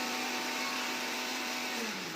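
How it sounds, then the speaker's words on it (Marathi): A mixer grinder whirs continuously as it grinds dried amla with salt and black salt into fine powder, a loud, steady motor drone with a high rattling edge and a slight drop in pitch toward the end. "याला मिक्सरला फिरवून घेतलं"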